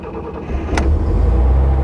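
A 1960 Mercedes 300 SL Roadster (W198) engine cranks and catches, then settles into a steady deep idle rumble, close and loud.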